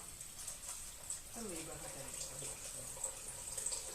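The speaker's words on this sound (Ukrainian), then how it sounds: "Тепер наливаємо сюди води. Ось у мене чайник і кип'яток." Boiling water poured from a kettle into a pot, a soft splashing trickle that starts partway through and continues steadily at low volume.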